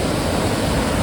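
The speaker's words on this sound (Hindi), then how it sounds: "ये जो है ये पानी आ रहा है डैम का" Water rushes out from a dam in Barot Valley, Himachal, a steady, loud, broadband roar with no break, like a close waterfall.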